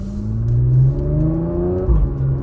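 A car engine revs with a rising and falling whine, steady and close, with a brief low thump near the end.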